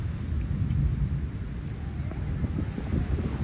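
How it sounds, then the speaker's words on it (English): Strong wind roars steadily over a Florida beach at Bradenton during a thunderstorm, a dense low rumbling buffet across the microphone with faint distant rumble underneath and no clear voices. "Dude, this is a storm of proportions."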